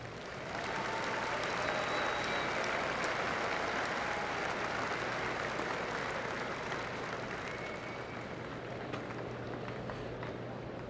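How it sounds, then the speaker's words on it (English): Arena crowd at a state high school wrestling championship applauding award recipients, a broad steady wash of clapping that sounds somewhat distant and continues evenly for about ten seconds. "How about a fine round of applause for all our recipients?"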